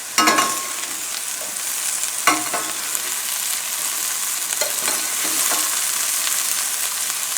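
Shredded hash brown potatoes frying in a thick-bottomed pan over a gas flame, a steady hiss and crackle of sizzling oil with occasional sharper scrapes as they are stirred, close and continuous without talk.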